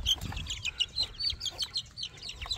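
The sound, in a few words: chickens clucking as chicks are released on a farm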